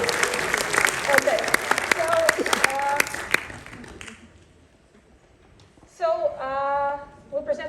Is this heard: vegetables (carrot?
no